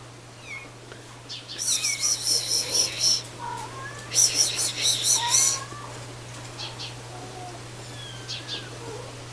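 A kitten meows in several high, repeated bursts, close by, with bird-like chirps around it and a steady low hum underneath.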